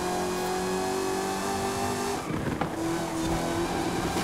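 The Fast X Flip Car revs and accelerates in Forza Horizon 5, its engine droning steadily with a brief gear-shift dip midway before rising again, loud and close with no talk.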